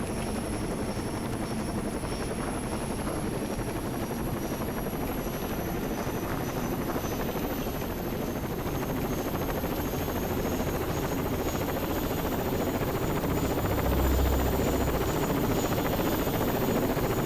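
A helicopter in the video game Rainbow Six Vegas drones steadily for the whole stretch, a continuous rotor buzz with a high whine on top and no talk over it.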